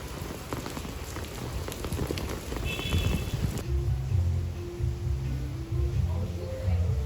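Heavy rain pouring outside on a street in Vietnam, a loud steady wash of drops hitting surfaces close by, with a low engine hum and rumble joining in the second half.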